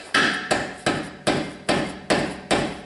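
Seven sharp, evenly spaced hammer blows about half a second apart, each ringing briefly, as a rear shock absorber on a 1994–2004 Jeep Grand Cherokee is knocked into a tight mount; close and loud, no talking.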